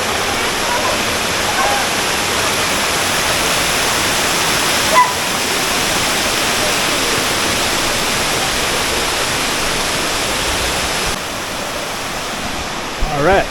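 Steady, loud roar of falling water at Cascada Juan Curi in San Gil, a dense continuous rush heard up close with no breaks.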